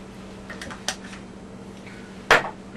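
A spoon stirs salt and coriander together in a bowl, giving a few light scrapes and ticks and then one louder clink of metal against the bowl.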